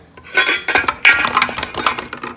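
Several freshly boiled eggs clatter and knock into a dish in a quick jumble, loud and close, with no speech.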